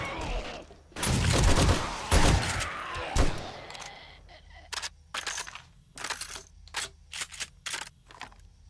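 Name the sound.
shotgun firing in the video game 7 Days to Die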